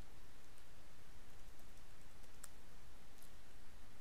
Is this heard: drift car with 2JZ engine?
no